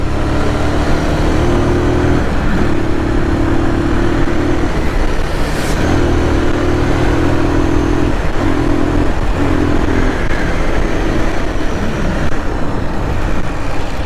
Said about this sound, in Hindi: तो अभी मैं टेस्ट राइड ले रहा है थोड़ी सी।